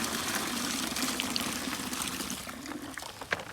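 Watery maple sap is poured into a bucket in a steady, close trickling stream that tapers off near the end, with a few small splashes.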